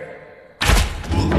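In a video game, a character tumbles down stairs: a sudden loud thud and clatter that rolls on as a dense, rumbling tumble after a quieter opening.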